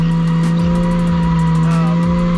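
A car spinning out while drifting donuts: continuous loud tire squeal over a steady high engine drone, sustained and close throughout.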